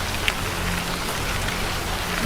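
Steady rain pours without pause in a Bengali horror cartoon, a dense, even hiss of drops falling throughout with no voices over it.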